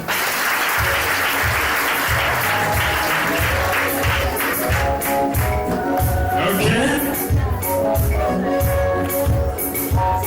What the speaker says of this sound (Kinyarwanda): Mutange amashyi menshi.